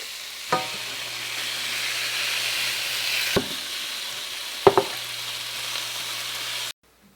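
Dove breasts fry in olive oil with herbes de Provence in a skillet: a steady, loud sizzle runs throughout, broken by a few sharp clatters as the meat is stirred or turned.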